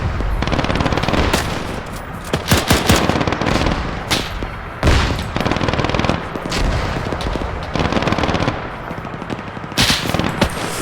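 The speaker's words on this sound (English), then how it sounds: "Machine gun." Sustained machine gun fire in ARMA 3, a World War II Normandy campaign: dense, loud bursts of rapid shots with heavier booming impacts scattered through, continuous for about eleven seconds without talk.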